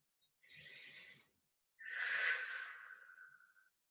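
Two slow, deep breaths close to the ear during a seated shoulder exercise, a soft inhale followed by a longer, stronger breath out, in an otherwise quiet room.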